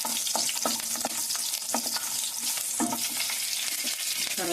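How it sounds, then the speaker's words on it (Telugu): Garlic slices frying in melted ghee in a pan, a dense continuous sizzle with repeated stirring scrapes and clinks, close and fairly loud, with no voices. "మనకి ఇప్పుడు కరిగిపోయింది కదా నెయ్యి, చక్కగా వెల్లుల్లిపాయ రేకలు వేసుకుందాం."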